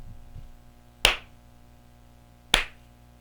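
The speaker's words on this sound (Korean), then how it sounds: "박수를 딱 치면 그냥 박수 소리 한 번만 나야 됩니다." Hand claps heard through Sony WF-1000XM4 earbuds in ambient sound mode: two sharp, isolated claps about a second and a half apart, each a single clean crack against a quiet background.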